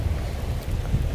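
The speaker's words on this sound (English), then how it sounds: "wind's kind of caught up with me" Wind buffets a microphone outdoors during a jig-and-float fishing outing beside flowing water, a steady low rumbling roar that stays close and loud for the whole moment with no speech.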